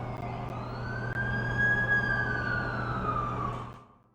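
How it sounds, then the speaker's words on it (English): An ambulance siren in The Amazing Spider-Man 2 video game wails as it arrives, a rising and falling tone over a low steady engine hum, loud and close, then cutting off abruptly near the end. "That's the ambulance I called."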